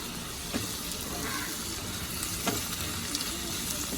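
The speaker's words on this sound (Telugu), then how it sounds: "2 పెద్ద టమాటాలండి చిన్న చిన్న ముక్కలుగా కట్ చేసుకుని యాడ్ చేసుకున్నాం" Small-cut tomatoes frying in a pan with ginger garlic paste for an egg prawn curry, a faint continuous sizzle broken by a few light scrapes and taps of a stirring spoon.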